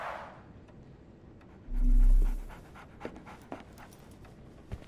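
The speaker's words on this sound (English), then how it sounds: "So, Barnes has a dog now." Dog panting in the game Sherlock Holmes: The Awakened, quick rhythmic breaths under a brief swelling rumble, followed by small scrapes and ticks close by.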